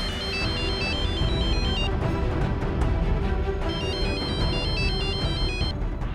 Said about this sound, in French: ce stupide téléphone sonne au mauvais moment